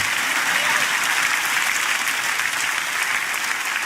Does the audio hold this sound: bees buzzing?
no